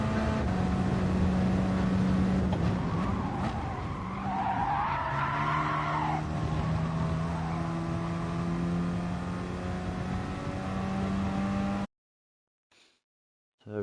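A Gr4 race car in Gran Turismo at Bathurst, engine droning loudly with shifting pitch under a long tyre skid and squeal in the middle, steady until the sound cuts out abruptly near the end.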